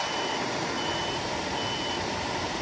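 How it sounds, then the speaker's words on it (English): Faint repeated high electronic beeps from a graphics card with no display, evenly spaced error beeps under a steady broadband hum with no one talking. "There's the error beeps."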